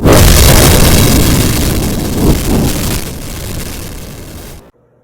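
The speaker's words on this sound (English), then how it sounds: "The Hell Beaver spat forth a ball of fire." A fireball explosion effect in a fantasy audio drama erupts as one loud deep boom, then a rushing roar that fades over several seconds before cutting to silence.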